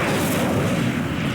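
The Incendio fire spell is cast in Hogwarts Legacy, a dense, roaring burst of flame that stays loud and thick for its short length, with no talk over it.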